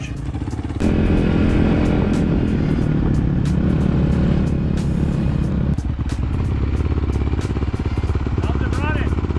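A dirt bike fitted with a SmartCarb carburetor runs nearby, its loud engine buzzing steadily with a shift in pitch midway, and voices talk over it.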